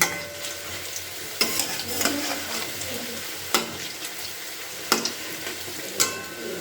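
Helencha greens fritters sizzle in hot oil as they are flipped one by one, a constant frying hiss punctuated by about five sharp spatula scrapes and clacks against the pan.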